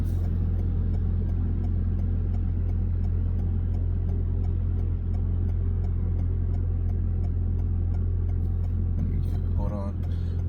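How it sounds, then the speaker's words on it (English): A loud fan runs steadily indoors, a constant broadband whir with strong low hum filling the whole stretch, while a person talks over it. "Sorry for the loud fan."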